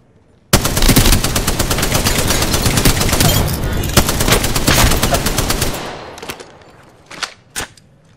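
Dense, rapid automatic gunfire in the Apex Legends battle royale video game rattles loudly and continuously for about five seconds, then trails off into a few scattered single shots.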